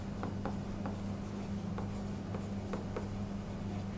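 Chalk or marker writing depreciation figures on a board, a quiet run of short scratchy strokes over a steady background hum, with no talk over it.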